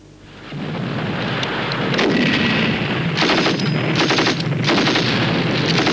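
A UK battle group's artillery and anti-tank fire roars in a continuous, loud barrage of booms and rattling shots that swells after the first second and stays heavy, with no voices.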